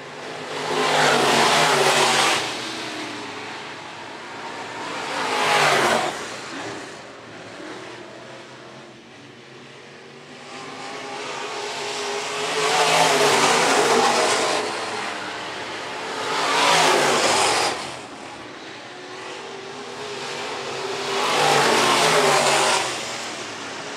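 Modified race cars running laps at Phillips County Raceway, engines swelling loud each time the pack roars past, then fading to a distant drone between passes, heard alone with no talk.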